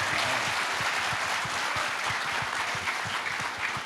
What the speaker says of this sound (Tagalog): Kung papalakpak kayo, pumalakpak kayo malakas.